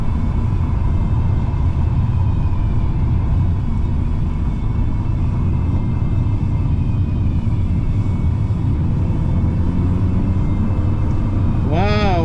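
A Hyundai N car with a 2-litre turbocharged engine, rated at 271 horsepower, drives hard on a racetrack. Its engine drones loud and continuously the whole way, with a rising whine at the end.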